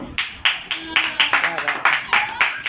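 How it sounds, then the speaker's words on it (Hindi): Hand claps at a milk-drinking challenge, a dozen sharp distinct claps in a loose steady rhythm, close and fairly loud, with a faint voice briefly underneath. "एक बार ताली हो जाए"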